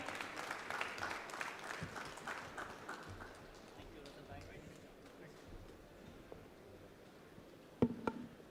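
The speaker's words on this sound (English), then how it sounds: "Come on, a big round of applause for Russell Bhai." An audience at a business conversation event applauds, with clapping loudest at the start and thinning out, mixed with background voices and a sharp knock near the end.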